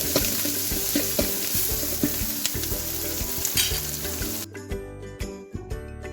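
Five green chillies, onion and chopped bottle gourd fry in a pan with a steady, loud sizzle, punctuated by close scrapes and clinks of stirring. The bright hiss drops away sharply near the end, leaving lower stirring sounds.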